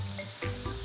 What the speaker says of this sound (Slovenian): Čist malo ga bomo pocvrli, ravno toliko, da se malenko zmehča